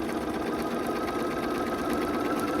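Sewing machine stitching a quilt seam, a fast, even, close-up whir with a rapid rhythmic needle pulse and no pause.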